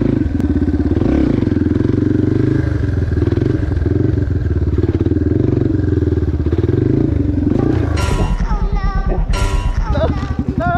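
A Yamaha TTR 230 motorcycle engine idles with a steady, loud throb, then is revved hard in two sharp bursts near the end, close to the microphone with no talk.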